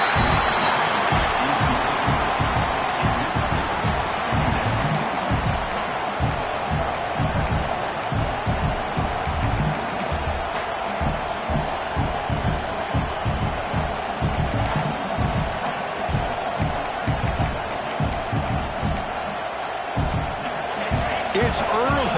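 Stadium crowd at a Clemson vs Baylor college football game, a dense, steady roar of many voices that holds at high level throughout, with rhythmic stomping or clapping pulses and bursts of cheering.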